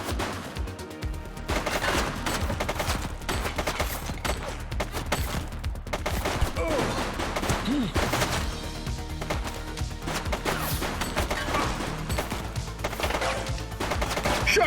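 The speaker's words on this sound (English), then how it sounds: "Shots fired!" Gunfire in The Precinct police video game, with repeated loud shots and bursts over a dense, rumbling action soundtrack that runs throughout.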